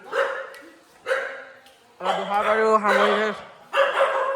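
A dog barks repeatedly in short, loud bursts nearby in Assam after a bhaona performance, while people talk over and between the barks.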